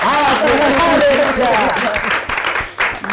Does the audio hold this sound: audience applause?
yes